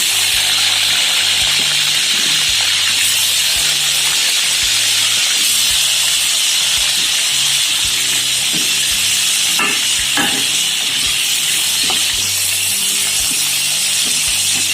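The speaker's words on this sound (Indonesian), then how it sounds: "Minyaknya udah panas, kita masukkan terongnya ya." Continuous hissing and sizzling of eggplant frying in hot oil, with occasional clinks and scrapes of a utensil stirring the pan.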